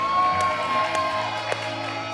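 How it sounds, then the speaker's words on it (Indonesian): Studio audience cheering for Mbak Im Wong on a talk show: a sustained, loud crowd roar with whoops over a steady tonal background, while individual claps stay indistinct. "Tepuk tangan dulu dong buat Mbak Im Wong"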